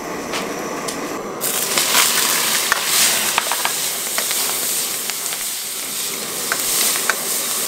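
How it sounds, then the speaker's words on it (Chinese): Scallion, ginger and garlic stir-fried in a wok give a loud, continuous sizzle and hiss, broken by scraping stir strokes and spatula clicks, heard up close without talk. "葱姜蒜炒香之后"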